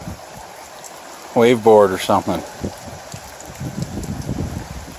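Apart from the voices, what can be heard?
rain falling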